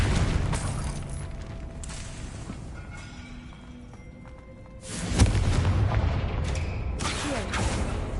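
Confringo spell blasts in Hogwarts Legacy, deep booming explosions with rumbling tails, one at the start fading out and a second loud blast about two-thirds through, alongside game ambience and no clear talk.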